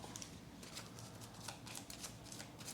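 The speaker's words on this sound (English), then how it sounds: "at the end of the round, we shuffle and deal new threat cards" Threat cards for the Leviathan Wilds board game being shuffled, a soft, steady riffling patter of card edges close by and fairly quiet, with no talking over it.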